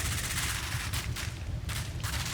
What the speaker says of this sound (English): you can hear a bunch of gunfire in the background